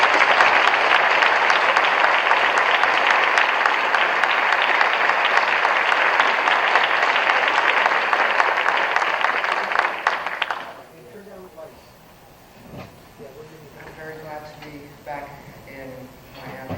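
Loud, sustained audience applause at the 1992 Miami Book Fair International welcomes an author, filling about ten seconds before fading out as a voice begins speaking.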